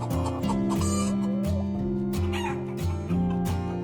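Chickens clucking at a poultry farm near Mumbai, heard through a steady wash of loud background music that keeps them partly buried; the fowl calls are busy and close.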